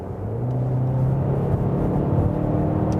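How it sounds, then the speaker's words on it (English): A 2024 Cadillac XT4 AWD in sport mode accelerates with a steady engine hum and rising rumble, heard from inside the cabin without talk. "I'm just going to hit the gas a little bit."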